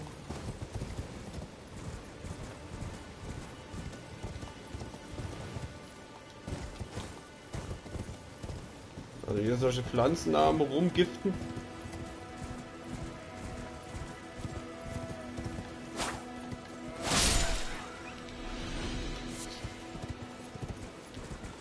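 Horse hooves clip-clop at a steady trot in the game Elden Ring, continuing throughout under game effects and music tones, with brief louder bursts and someone talking in German over them.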